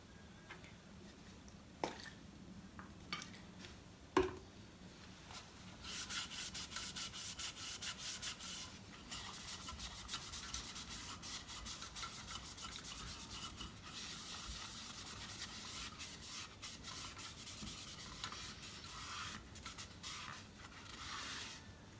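A wooden carving is scrubbed clean of dirt with a brush or cloth, a soft continuous rubbing and scratching that starts after a few faint knocks and runs quietly and close-up, with no talking.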